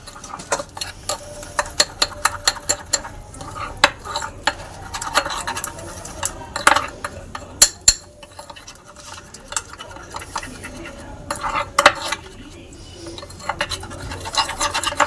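Flour and oil being mixed by hand in a bowl for nimki dough, giving soft irregular scraping and rubbing with scattered light ticks and clicks. Quiet and close, no talk heard.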